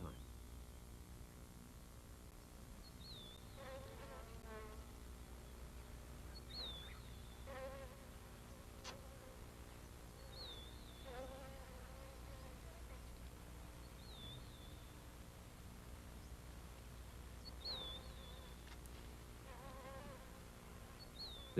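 Flies buzz steadily around a cheetah on the African savanna, a faint continuous drone with short bird chirps scattered through it.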